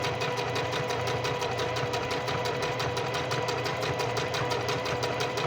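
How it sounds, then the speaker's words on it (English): A sewing machine runs steadily while stitching fabric along a curve, a continuous close mechanical whir with a fast rhythmic clatter of the needle, loud and uninterrupted with no talk. "I am sewing on curve."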